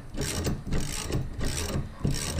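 A tool ratchets steadily as a Mazda Miata strut is tightened onto its strut mount during a restoration, with close, rapid, gritty mechanical clicks running throughout.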